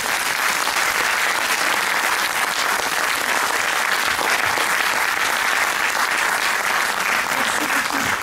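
A conference audience applauds at the end of a talk on reinventing masculinities, with dense, steady clapping that fills the whole stretch at an even, sustained level and never thins out.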